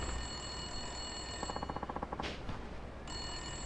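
A payphone in a phone booth rings in the Yakuza 5 video game, giving one quick electronic trilling burst of rapid repeated tones over a steady low game ambience.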